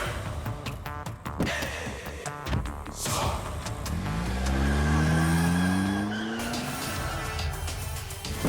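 A car peels away with tires skidding and squealing, preceded by sharp knocks and clatter, the engine note rising loudly as it drives off, with no talk.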